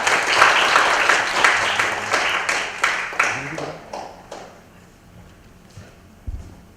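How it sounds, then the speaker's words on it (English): An audience at a family business talk applauds loudly, the clapping fading over several seconds to scattered claps and a few late taps. "Give a big round of applause for me."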